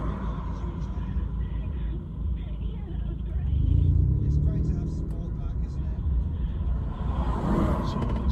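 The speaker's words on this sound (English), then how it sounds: "The exhaust is absolutely blowing from behind me." A 315 bhp Vauxhall Astra VXR with a blowing exhaust gives a deep, loud, rumbling drone from inside the moving car, swelling midway as it pulls, while someone talks over it.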